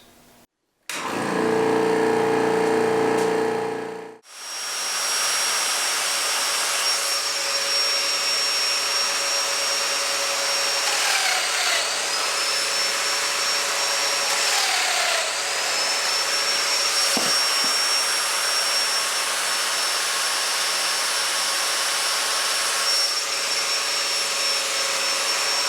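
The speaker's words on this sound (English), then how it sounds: "all I'll have to do is turn the pump on, push this up against it, cut my domino slots here, release it with the foot pedal" A vacuum pump starts up and runs with a loud, steady drone and high whine while a domino joiner cuts slots in cabinet workpieces in a woodworking shop. A brief burst of machine noise comes first, then the pump hum continues unbroken.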